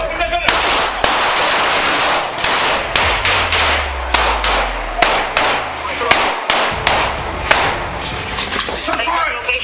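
Gunfire recorded on a police dashcam cracks out in rapid bursts of loud, close shots with metallic clangs, while voices shout over the shooting.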